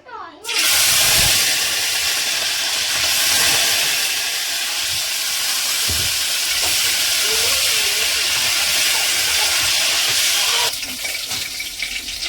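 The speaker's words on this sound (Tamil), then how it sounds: "இப்போ எண்ணெய் வந்து சூடாயிட்டு இந்த வெட்டி வச்ச கத்திரிக்காய் போட்டுக்கலாம்" Cut brinjal (eggplant) dropping into hot oil in a kadai, a sudden loud burst of hissing sizzle that holds strong and steady, then eases slightly near the end.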